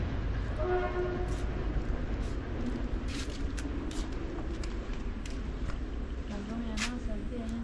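A train passes close to a hotel in Ohiya, Sri Lanka, a horn sounding briefly near the start over a steady low rumble, with people talking throughout.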